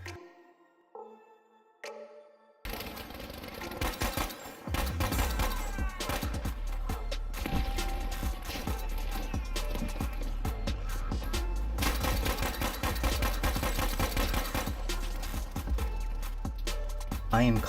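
Incoming enemy gunfire during an assault in Battlefield 5, a dense, sustained barrage of cracks and blasts rolling on for many seconds after a quiet opening, loud and continuous with heavy low rumble underneath.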